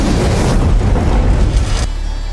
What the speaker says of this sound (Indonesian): sebuah kendaraan pengawal di depan meledak hancur